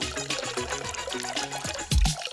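Bath water sloshes and splashes in a tub with bubbles, a busy watery churn that surges into a louder splash near the end, close by with no talking.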